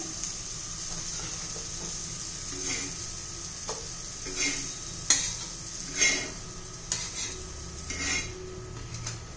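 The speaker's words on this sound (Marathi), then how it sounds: "उरलेले सगळे आता कापणी असे फ्राय करून घेऊ." Bottle gourd slices fry in a pan with a low continuous sizzle, punctuated by metallic clinks and scrapes of a utensil against the pan, a few louder knocks near the end.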